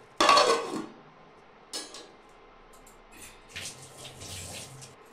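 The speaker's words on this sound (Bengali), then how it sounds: "আবার ঢাকা দিয়ে দেবো এখন আমরা" A metal lid clanks sharply back onto a cooking pot of chicken liver and gizzard, one loud close knock, followed by faint scrapes and soft clinks in a quiet kitchen.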